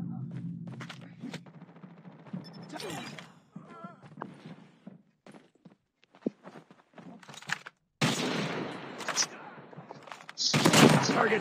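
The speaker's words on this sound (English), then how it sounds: "It's just shooting all over the place." Scattered gunfire in a shooter video game, sharp bursts and single shots at varying distances with quiet gaps between, some loud close volleys near the end.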